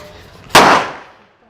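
A single loud, sharp blast of a handmade 100-wala string of firecrackers goes off, followed by a crackling, noisy tail that fades out over about a second.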